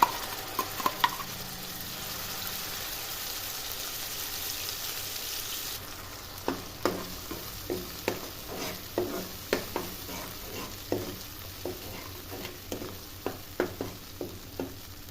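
Paste of onion, tomato and cashew hits hot oil for a paneer gravy, giving a steady sizzle with repeated scraping stir strokes in a regular rhythm, close and moderately loud, with no talk.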